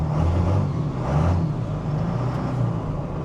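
A car with a previously bad battery runs and rolls forward, a steady close engine drone with slight swells in revving throughout.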